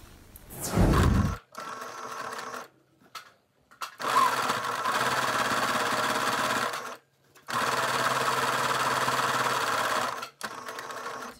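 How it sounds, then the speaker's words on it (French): A sewing machine runs a seam through fabric for a child's glasses case, stitching in two long, steady runs with short pauses between them. A brief louder burst of handling noise comes just before the stitching. "on va venir faire une couture donc au même endroit que lorsque l'on a fait la piqûre tout à l'heure"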